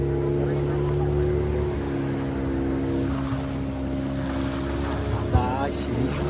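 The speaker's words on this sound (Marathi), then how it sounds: "बोट चालू झालेली आहे." A motorboat engine runs on the sea off Nivti Beach, a steady, loud, close droning hum with wind and water noise around it and a brief knock near the end.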